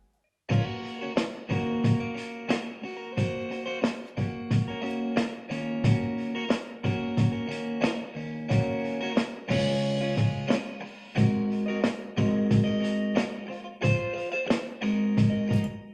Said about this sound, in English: I went ahead and developed the drum track and put a guitar on it.